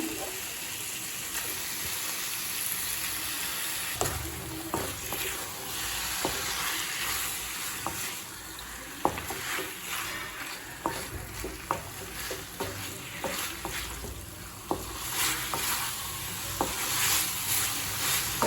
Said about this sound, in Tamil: சிக்கன் சேர்த்துட்டு நல்லா வதக்கி வச்சு